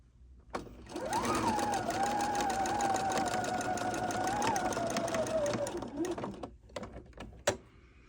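A sewing machine runs steadily for several seconds stitching a quarter-inch seam on a pinwheel quilt block, a close whirring hum bracketed by sharp clicks as it starts and stops.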